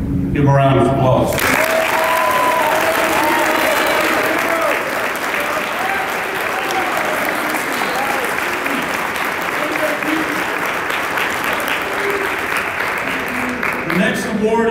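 A sustained, loud round of applause fills a youth challenge academy awards banquet for cadet award winners, with a crowd clapping steadily for over ten seconds while voices chatter and call out beneath it.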